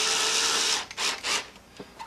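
A screw driven into a saddle's stirrup leather makes a whirring, grinding tool sound that stops and starts in short bursts, close up, with no talk.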